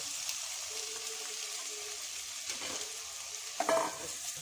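Chopped onions sizzling in a pot on a gas stove for a jackfruit curry, a soft steady fry with a few stirring scrapes and a brief clink of utensils near the end.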